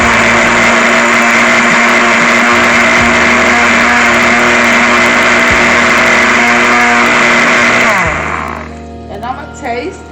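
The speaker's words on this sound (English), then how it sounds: "I'm gonna blend this until it becomes in a dressing" An electric blender whirs loudly and steadily at close range, blending raspberry preserve into a salad dressing, then winds down and stops with a few clatters.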